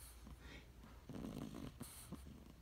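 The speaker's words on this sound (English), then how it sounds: "This one's just snoring away." A sleeping puppy snores softly, with a faint, slow breathing rhythm and one fuller rasping snore in the middle, close by and quiet.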